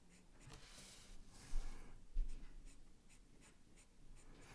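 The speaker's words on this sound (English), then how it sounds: "I'm using this eraser like my pencil." A pencil eraser rubs on paper during a realistic landscape drawing, making faint, quiet scratchy strokes in short, irregular bursts close to the microphone.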